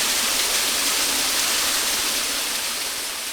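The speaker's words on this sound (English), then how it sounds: "the falls sort of making their way down the gorge there" Tise Falls pours down Cascade Creek Gorge in Hanging Rock State Park, North Carolina, a dense, loud, continuous roar of rushing water that stays even throughout with no voices.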